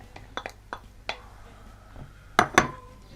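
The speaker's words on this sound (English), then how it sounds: "So basically we take our tomato, put that in the bowl, peppers and the garlic," Tomato, peppers and garlic dropped into a bowl, a few light, separate clinks and taps of food and utensils against the dish, spaced irregularly, with two sharper knocks near the end, close and fairly quiet.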